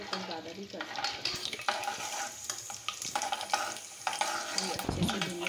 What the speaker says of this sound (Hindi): ये अच्छे से भूनने लगा है